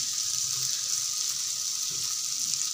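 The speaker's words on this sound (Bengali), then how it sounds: "আমি এখন এই যে গামলা দিয়ে জল দিয়ে দিচ্ছি" Water poured from a bowl into a hot pan of murighonto, a fish-head and rice dish: a continuous loud hiss and sizzle, steady and close, with no talking.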